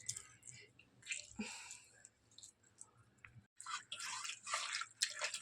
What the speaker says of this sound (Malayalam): ചെറുനാരങ്ങ ഞാൻ പിഴിഞ്ഞു ഒഴിക്കുന്നു